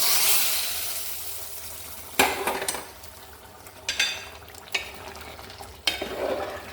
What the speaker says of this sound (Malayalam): ഇനി നമുക്ക് വറവ് കറിയിലോട്ട് ചേർക്കാം